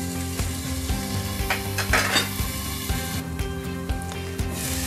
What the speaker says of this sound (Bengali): আর একটু ভাজা হবে পেঁয়াজটা